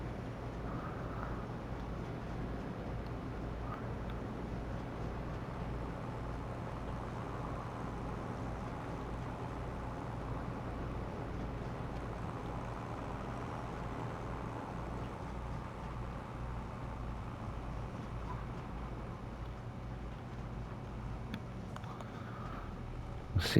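A tractor engine in Farming Simulator 25 labours under the weight of a loaded trailer, a steady low drone that holds evenly throughout at moderate volume.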